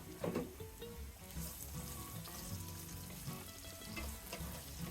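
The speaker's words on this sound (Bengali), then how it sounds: "এক মিনিটের মতো আমি গাজরগুলোকে ভেজে নেব" Chopped carrots fry in a pan with onion and garlic, a busy, crackling sizzle that runs continuously at close range with occasional stirring clatter.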